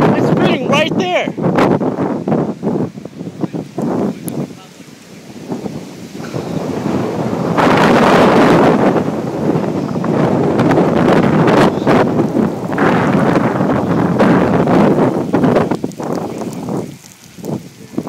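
Strong wind buffets the microphone as a steady, loud roar under intermittent talking on a very dark, windy night, surging heavier in the middle.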